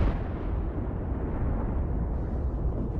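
A guided anti-tank missile explodes on a Bradley fighting vehicle, a loud, sustained low rumble of blast and debris with no clear pauses.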